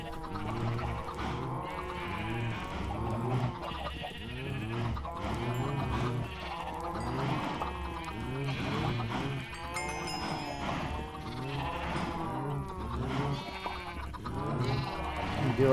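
Sheep in the video game Ancient Kingdoms bleat over and over in a dense, overlapping flock chorus, steady and fairly loud for the whole stretch, with no talk.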